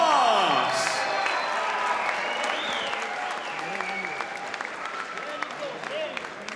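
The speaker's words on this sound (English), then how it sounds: "Let's give both of these warriors a huge round of applause." A crowd applauds at ringside after a boxing fight between Luis Nery and Azat Hovhannisyan ended by knockout, the clapping a broad wash running beneath a loud announcer's voice.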